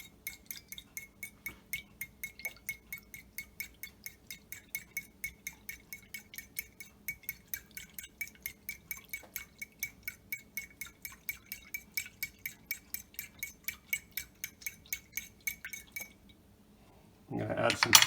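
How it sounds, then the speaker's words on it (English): Two eggs being beaten with water in a bowl: a steady, rapid run of light clinks as a utensil strikes the bowl, repeating evenly for many seconds before stopping, with a louder rustle at the end. "I'm going to mix the 2 eggs with the water."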